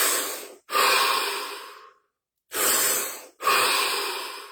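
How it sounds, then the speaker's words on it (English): Three deep breaths drawn in and pushed out close to the listener, each a loud, airy rush that fades away, split by short silences. "3 deep breaths."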